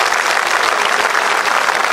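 Loud, dense applause from a large crowd at a world record event on a ground in Amravati, a steady unbroken wash of clapping filling the whole two seconds.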